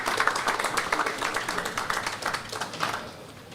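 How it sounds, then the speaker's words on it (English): Audience applause for a drumming group at a building commissioning ceremony, a fairly loud spread of many clapping hands that gradually thins and fades toward the end. "Another round of applause for the Pebbles Drummers."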